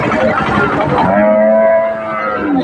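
Cattle at a busy village cow market in Bamondi, Meherpur, where cows and calves are sold, one loud drawn-out moo rising and holding near the close under a noisy crowd.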